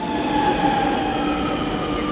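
Metro train running steadily with a loud, continuous rumble and a sustained high wheel whine, heard up close from inside or beside the car with no talking.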